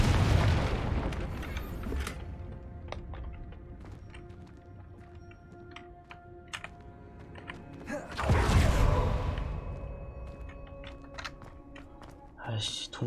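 Two booming blasts from the Confringo fire spell in Hogwarts Legacy, set in a cave: a big burst at the start and another around the middle, each with a sweeping rumble and decay over continuing game sounds.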